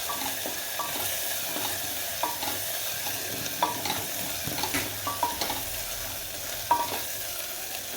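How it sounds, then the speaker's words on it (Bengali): Turmeric, ginger and garlic paste frying in a pan for spinach dal, a steady close sizzle broken by repeated scraping stirs of a spatula, with no talk. "আদা রসুনের গন্ধটা যতক্ষণ না যায় আমি কষাতে থাকবো।"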